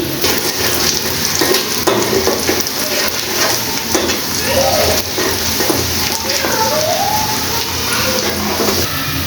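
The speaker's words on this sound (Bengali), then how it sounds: "আমি একটু হালকা করে ডিমগুলি ভেজে নিয়েছি" Eggs fry in a pan with loud, continuous close-up sizzling and bursts of stirring and scraping throughout, with no clear talking over it.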